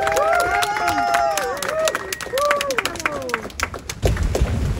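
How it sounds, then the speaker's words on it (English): An audience applauds newly honoured Eagle Scouts at a Belmont ceremony, with steady clapping and scattered whoops and cheers rising over the crowd for about five seconds. "Let's give these Eagle Scouts a round of applause"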